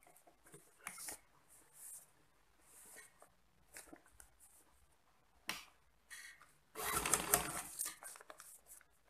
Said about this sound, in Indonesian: Kemudian langsung aja kita jahit untuk ini talinya.